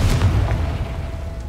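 A Confringo fire spell blast in Hogwarts Legacy gives a deep booming burst at the start that rolls off into a lingering low rumble, loud and alone with no talking.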